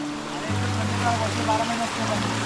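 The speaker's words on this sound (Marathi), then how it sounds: "हे बघा इकडे झरे आहेत ते पाणी पितात" Forest spring water flowing steadily in a village woodland, a broad close wash with a low engine-like hum underneath and faint voices mixed in.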